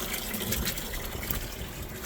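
Water from a well pump gushes hard out of poly pipe into a stock trough, a loud, continuous churning splash heard close with no talk.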